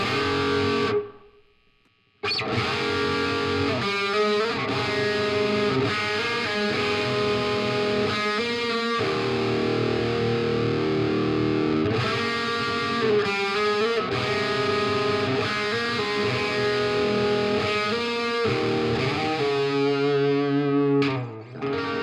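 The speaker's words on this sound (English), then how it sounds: "Add in the reverb again" Guitar notes ring through heavy distortion and reverb, a sustained processed tone with sharp stops and restarts, loud and close.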